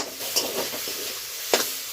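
Jute leaves and onions frying in a pan, a steady close hiss broken by a few short scraping stirs, with no talk.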